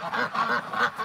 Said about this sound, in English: Come on out there, dirty duck.